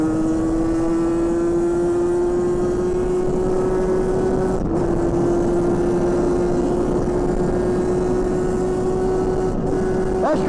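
A Euro 5 AM6 50cc motorcycle engine is held at full throttle in sixth gear, giving a loud, steady, high-pitched drone that barely changes pitch as the bike runs flat out.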